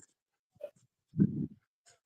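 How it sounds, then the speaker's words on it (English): Puppies give faint, brief whimpers and soft snuffles indoors, scattered short sounds with one slightly longer muffled whine in the middle, otherwise quiet. "These puppies, man."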